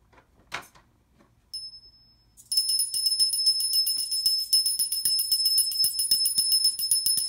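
A small bell struck by a micro servo rings out, first a single ding, then a rapid continuous jangling ring that holds steady, with faint mechanical clicks before it.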